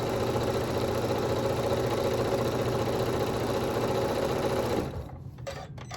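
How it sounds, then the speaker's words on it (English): A sewing machine stitches a half-inch seam on a rag quilt bag, running steadily and close for about five seconds before stopping, leaving quieter handling noise. "Just going to sew 1/2 inch."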